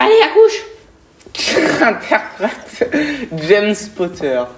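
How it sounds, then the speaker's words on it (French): A single sharp sneeze bursts out, loud and close, followed by brisk French speech from people in the middle of a film-actor trivia quiz. "À tes souhaits."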